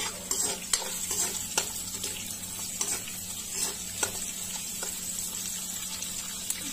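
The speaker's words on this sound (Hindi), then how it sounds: "इसमें हम सबसे पहले हरी मिर्च डालेंगे थोड़ा सा मिर्च को भूजेंगे" Green chillies sizzle in melted butter in a pan, a steady close frying hiss with scattered sharp clicks and scrapes as they are stirred.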